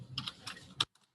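A few quick key presses on a computer keyboard, ending in one firmer keystroke for a Ctrl+Enter shortcut, close and quiet, with no talking.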